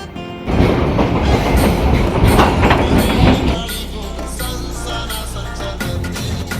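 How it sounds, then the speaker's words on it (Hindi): A train rumbles and clatters at Gadaura railway station in Bilaspur, Chhattisgarh, loud and close, with a heavy roar easing into a steadier rolling clack of wheels. "हमन गदौरा रेलवे स्टेशन आए हैं"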